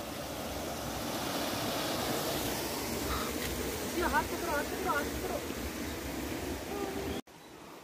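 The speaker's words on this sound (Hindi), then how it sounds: "यहाँ से काफी शानदार झरना चल रहा है।" A waterfall near a Himachal village lake in India, a continuous rushing water roar with wind buffeting the microphone, steady and close, cut off abruptly near the end.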